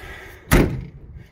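A single solid thud as a Lada Niva car door swings shut, loud and close, with a short dull ring-off afterward.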